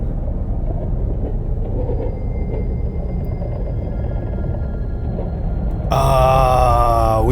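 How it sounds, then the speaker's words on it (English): Tiny train in the game URU: Path of the Shell rumbling steadily along its rails, a low continuous rolling drone with faint metallic tones, joined near the end by a louder rising harmonic whine. "Oh, we're on a tiny train!"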